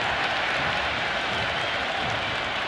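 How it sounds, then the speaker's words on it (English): Stadium crowd in the cricket video game Cricket 26 cheering and applauding in a dense, continuous roar, loud and sustained with no clear voices. "The crowd is electric right now"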